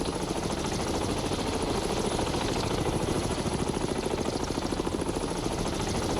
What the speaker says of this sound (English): Launching aircraft.